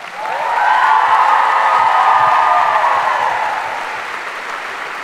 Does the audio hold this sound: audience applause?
yes